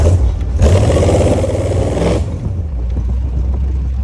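A hot rod's engine roars loud and close, swelling into a heavy rev before easing back to a lower, steadier running rumble; no talk.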